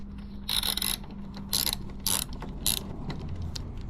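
Ratchet clicking as bolts are removed from the rear wheel of a Royal Enfield Classic 350 Reborn motorcycle, with several short bursts of bright ratcheting separated by pauses over a low steady hum.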